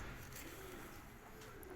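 A breeder's pigeon coos softly and steadily against a low background hum, with no voices present.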